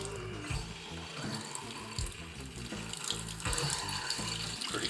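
Newly installed Kingston Brass widespread bathroom faucet runs at full flow to flush out soldering debris, a loud, steady close-up rush of water splashing into the sink with a low gurgling underneath.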